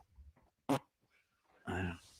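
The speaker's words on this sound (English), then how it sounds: "fart into the mic." A fart is let into a microphone, a short close burst followed after a pause by a longer, louder buzzing blast, with faint murmurs around it.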